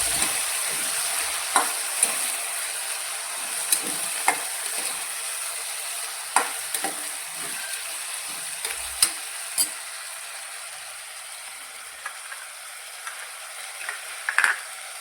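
Fresh green pigeon peas (lili tuver) are stirred and mixed in a sizzling pan for a Kathiyawadi tuver-valor vegetable dish. A continuous bright sizzle carries scattered light clicks and scrapes from the spoon over fifteen seconds.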